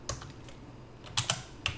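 Keys clatter on a computer keyboard as a Java command is entered at a terminal, a few quick separate taps and a short burst, close and fairly quiet.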